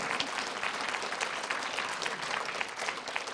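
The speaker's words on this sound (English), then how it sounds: "A round of applause" A crowd at an advocacy gathering in Wyoming claps steadily throughout, a fairly faint, even wash of applause heard from a distance.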